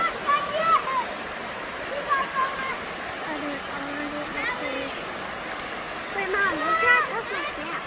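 A waterfall and flowing stream at Hogback Ridge rush in a steady broadband wash, with children's voices and calls scattered over the water throughout.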